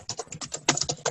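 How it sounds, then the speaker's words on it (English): Fingers tap on a computer keyboard picked up by an open microphone during an online webinar, a quick irregular run of a dozen or so close clicking keystrokes. "If there's someone that's typing on their keyboard, if you could please mute yourself."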